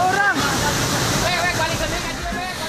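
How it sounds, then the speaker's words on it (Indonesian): Flash-flood water from the overflowing Citarik Cipencit river in Sukabumi, West Java, after heavy rain: a loud, continuous roaring rush, with voices talking over it. "Hujan dengan intensitas tinggi membuat Sungai Citarik Cipencit meluap Senin sore dan memicu banjir bandang"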